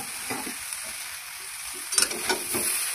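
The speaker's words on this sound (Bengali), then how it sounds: "এবার গুড়টা ভালো করে মিশিয়ে নেবো।" Jaggery being stirred into a spiced raw mango chutney in a pan, with soft scraping strokes over a faint steady sizzle and a few sharper spoon clicks toward the end, no talking.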